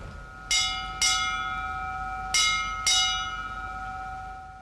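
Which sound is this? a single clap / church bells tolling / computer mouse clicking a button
church bells tolling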